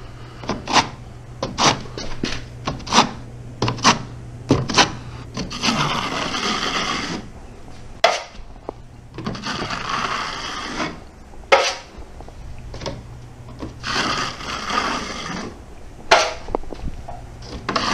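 A 6-inch knife scrapes skim coat across a wall in repeated swipes, with long rasping drags broken by sharp clicks and taps of the blade, close and fairly loud.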